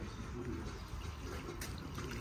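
Water poured from a container onto newly planted garden plants at home, a steady soft splashing and trickling running continuously close by.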